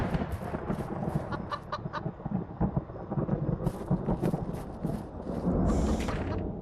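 Chickens cluck from a chicken coop in the mobile horror game Evil Nun, with repeated short calls over a dense, rumbling background, moderately loud and with no talking.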